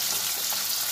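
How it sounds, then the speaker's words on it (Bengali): Pointed gourd (potol) frying in oil with only salt, a continuous bright hissing sizzle, steady and close, brief and alone. "এইবার আমি পটলগুলোকে একটু ভেজে নেব"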